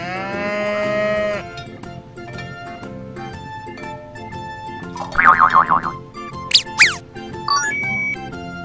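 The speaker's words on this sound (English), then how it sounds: "A calf is a baby cow." Over a bed of cheerful background music, a cow moos with a wavering, drawn-out call near the middle, followed by springy boing and squeaky cartoon effects.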